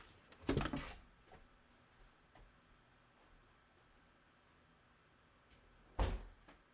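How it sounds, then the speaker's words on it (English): A door is pushed shut indoors with a close, solid thud, followed by a quiet stretch of room tone and a second firm thump near the end. "Hold on, let me shut my door real quick."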